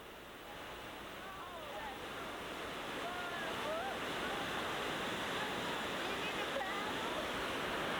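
Steady rushing roar of the Arkansas River rapids, a dense continuous wash of turbulent water building slightly in loudness, with faint wind and no clear voices.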